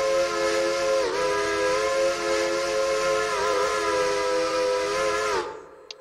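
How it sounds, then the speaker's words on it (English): A Pennsylvania Railroad three-chime steam whistle in the railroad game Railroader blows one long, loud, steady blast for about five seconds, with a slight dip in pitch partway through, then cuts off sharply. "We got a Pennsylvania Railroad 3 chime."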